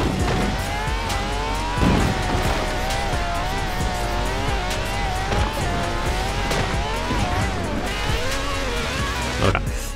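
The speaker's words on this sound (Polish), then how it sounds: "Tak jadę trochę asfaltem, trochę nie asfaltem, ale kurde, to jest Ford Transit." A Ford Transit van driven partly on asphalt and partly off-road in Forza Horizon 4, its engine droning and revving up and down with tire squeal and skids, loud and close throughout.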